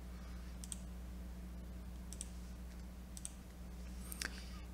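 Mouse clicks while working in EZCAD laser marking software for a fiber laser marker: a few sparse, sharp clicks spaced about a second apart over a steady low electrical hum, with no talking.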